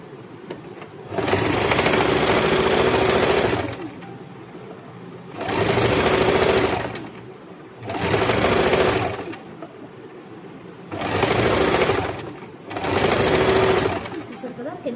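A sewing machine stitches the legs of a pair of shorts in five loud bursts of rapid mechanical chatter, each separated by short pauses with quieter background sound.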